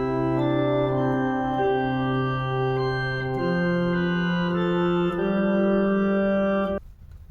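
Sustained keyboard melody of the hymn tune Saffron Walden ("Just As I Am") over a slow-moving bass line, smooth and continuous, ending abruptly with no talking.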